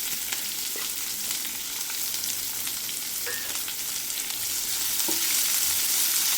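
Onions sautéing in oil with curry leaves and green chilies, a dense, close sizzle with scattered taps and scrapes of a spoon stirring the pan, and no talk.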